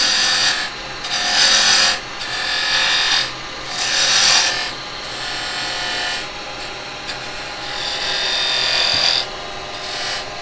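A woodturning lathe cuts a tenon into the base of a spinning wood piece, giving a loud, steady scraping rasp that swells and eases in repeated passes of about two seconds, with no talk.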